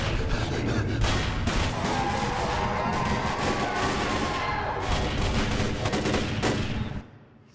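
Dense, loud video game gunfire from a demo at EA's E3 2008 press conference: continuous overlapping rifle bursts and booms that fill the soundscape, then cut off abruptly at the end.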